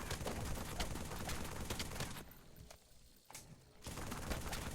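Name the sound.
assault rifle gunfire in Halo 3 video game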